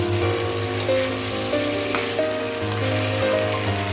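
Mutton curry masala sizzles in a pan as it is stirred, a steady broadband hiss with faint scraping strokes and a low hum running underneath throughout.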